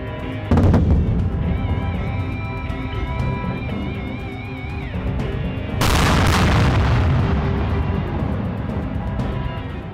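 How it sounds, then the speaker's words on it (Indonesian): Heavy artillery shells fired at sites in Pursat Province, Cambodia, on the border with Thailand: deep rumbling booms and blasts over a continuous low roar, with one especially loud detonation partway through. "Menembakkan 5 peluru artileri berat ke sejumlah lokasi di Provinsi Pursat"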